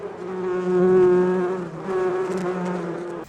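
Honeybees hum in a steady, loud drone from an opened backyard hive being checked before winter, close by and swelling slightly, with no voices.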